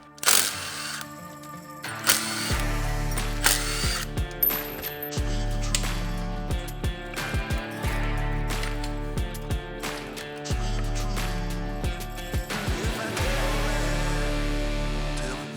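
Work on the stator cover bolts of a $1500 EFI 450 dirt bike with a tool and metal clinks, likely an electric ratchet, in four long whirring bursts broken by sharp clicks and clinks, close and fairly loud, with no talk.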